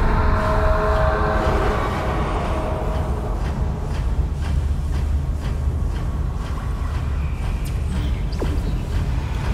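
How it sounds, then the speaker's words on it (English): A loud, continuous train-like rumble rolls through a scene in the video game Dead Space Remake, heavy and low with a rattling edge, easing off slightly toward the end. "Sounds like a choo-choo train."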